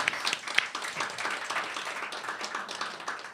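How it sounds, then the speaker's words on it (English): An audience applauds after a panel discussion, giving a steady wash of many hands clapping at moderate volume with no talk over it. "Let's give everybody a round of applause."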